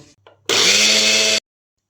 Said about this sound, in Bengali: এবার সুজি চিনিকে মিক্সিতে গুঁড়ো করে নেব।